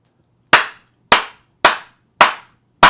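Five sharp, isolated hand claps land at an even, deliberate pace, each crisp and loud against near silence.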